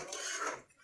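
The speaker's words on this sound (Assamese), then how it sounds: "এনেকৈ মই এতিয়া আলুটো সিজিবলৈ অলপ সময় ঢাকি থৈ দিওঁ" Metal lid clanking onto a pot of boiling potatoes, one short bright clatter that quickly fades.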